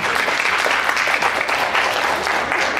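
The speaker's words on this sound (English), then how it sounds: "Please, a round of applause to Yasmin before even she starts." Conference audience members give a warm round of applause for a presenter, continuous dense clapping from a crowd that stays loud and even throughout.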